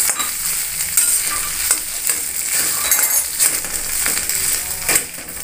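Potato filling fries in a pan with a loud, steady sizzle, broken by repeated scraping stirs and light metallic clinks of a spoon against the pan, close by and without talking.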